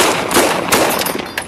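A police officer fires a quick burst of gunshots, several sharp loud cracks in rapid succession over a second and a half.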